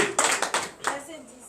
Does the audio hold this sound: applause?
yes